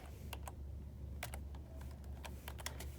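Computer keyboard being typed on while taking Spanish grammar notes: a scattered series of crisp, close key clicks in irregular bursts over a low steady hum, with no talking.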